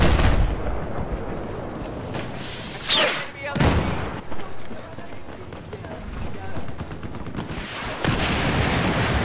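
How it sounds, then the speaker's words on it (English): A stray rocket exploding onto the player in Battlefield 4 during a close-quarters conquest match, a sudden booming blast amid dense gunfire and footsteps, with voices talking throughout. "stray rocket hit me"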